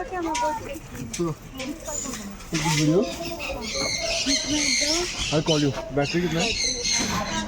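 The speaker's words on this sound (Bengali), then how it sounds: "এখানে সব পাখিগুলো একদম ফ্রিলি ঘুরে বেড়াচ্ছে" Many birds squawk, chirp and call over one another in a large walk-through aviary, a busy overlapping chorus close by, with voices mixed in.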